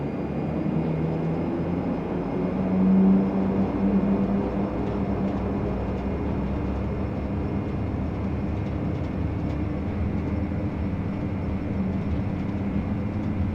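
A Majestic Q400 turboprop on its takeoff roll in a flight simulator: a continuous, even engine drone with a low hum and a brief swell near the start, no speech.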